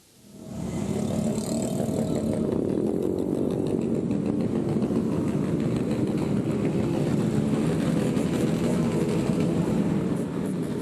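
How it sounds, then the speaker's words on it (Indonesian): A convoy of motorcycles ridden by a gang on a road in Medan, North Sumatra: a loud, continuous engine roar that swells in at the start and then holds steady, with no speech. "Mereka mengendarai motor secara berkelompok dan mengganggu pengendara lain."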